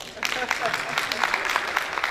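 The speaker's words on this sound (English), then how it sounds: "A round of applause for him." A round of applause at a gathering of the Association of Professional Women Builders in Nigeria: a steady patter of many hands clapping at once, dense and continuous for the whole stretch.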